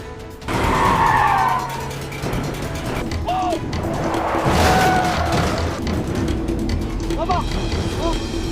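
Movie car chase effects: engines roar under heavy tire screeching and skidding that swells and fades throughout, with a steady din and a voice talking over it.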